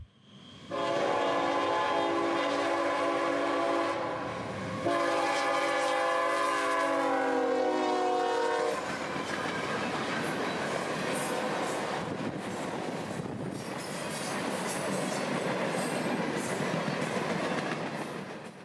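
M452, a freight train made up mostly of freight bound for Waycross, rolls past at speed at Coleman on the S-Line in Central Florida. Its horn sounds in two long blasts, followed by a steady, loud rumble of cars passing close by.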